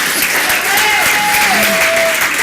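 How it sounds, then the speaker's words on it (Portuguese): A church congregation claps together, a dense, loud, even wash of applause with voices mixed in. "Dá uma salva de palmas ao Senhor."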